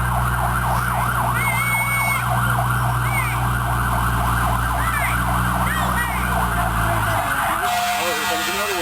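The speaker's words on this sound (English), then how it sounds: "Comes a big fire truck." A big fire truck siren passes near a campground at Orchard Lake, a loud wailing siren cycling up and down with heavy engine rumble beneath, then cutting off as the truck moves on.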